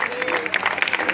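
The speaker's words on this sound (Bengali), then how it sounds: "জোরে হাততালি।" Brief burst of audience applause at a Bijoya Sammilani community gathering during a prize-giving for women, a short, dense patter of clapping with crowd murmur underneath.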